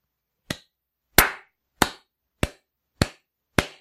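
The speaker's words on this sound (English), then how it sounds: "I know you can't clap where you are, so I'm doing it for you." Six sharp, separate hand claps from one person, close and fairly loud, evenly spaced about two-thirds of a second apart with silence between them.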